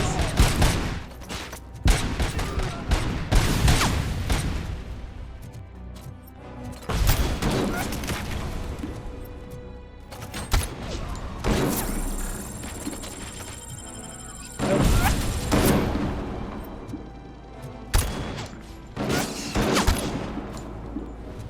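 Gunfire in the RoboCop: Rogue City video game comes in repeated loud bursts of heavy shots separated by short pauses, close and punchy, with someone speaking between volleys.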